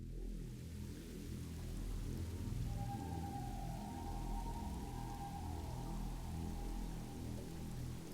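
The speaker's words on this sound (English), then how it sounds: "what I did was I ended up adding in this bass and this rain sound effect." A rain sound effect layered into a trap-style music production plays steadily throughout, a soft continuous hiss of rainfall over a deep, pulsing bass line, with no voices.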